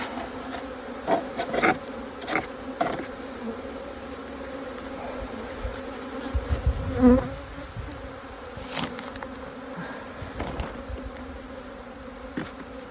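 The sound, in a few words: honeybees buzzing at hive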